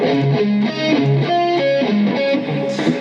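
Crunchy, overdriven electric guitar plays a short melodic riff, note after note in a steady flow, up close with no talking.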